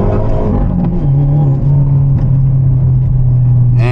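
Manual Hyundai Elantra N held on the brake for a boosted launch, its engine droning loud and steady at raised revs with a sustained low hum throughout, no voices.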